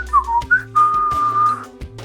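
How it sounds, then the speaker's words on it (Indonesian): A man whistles a wandering, tuneless melody in the quiet of the morning, with several short rising notes followed by one long held note, alone and fairly close. "Suara siulannya menggema di heningan pagi, membawakan lagu tak menentu"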